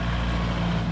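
Engine rumble of a vehicle on a road in Cappadocia, a steady low drone that stays loud and close for the full second with no talk.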